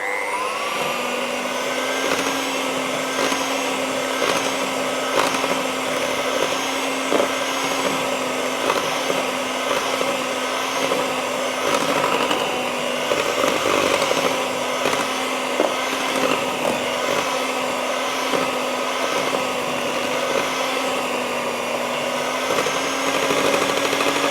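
An electric mixer runs steadily at medium speed through oat cookie dough, a continuous motor whine with a constant hum that holds level throughout, close and loud with no voices.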